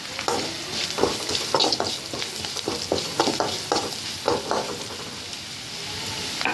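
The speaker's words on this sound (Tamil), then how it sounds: "போட்டு எல்லாத்தையும் மிக்ஸ் பண்ணி கலரி விட்டுக்கலாம்" Cowpeas in a pan being stirred with chili powder and garam masala for a spiced masala karamani, a steady sizzle broken by rhythmic scraping strokes of a spoon, close and moderately loud.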